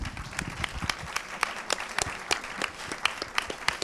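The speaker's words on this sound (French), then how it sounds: "on peut vous applaudir aussi" A round-table audience applauds with dense, steady clapping that carries clear individual hand claps throughout, close and moderately loud with no talk over it.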